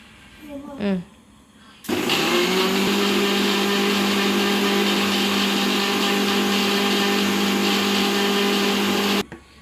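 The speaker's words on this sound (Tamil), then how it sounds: "இப்போ மிக்சியில் அரைச்சிக்கலாம்" A mixer grinder blends chocolate milkshake ingredients, including a chocolate bar, starting abruptly after a brief sound and running loud and steady with a constant whirring drone for about seven seconds before cutting off.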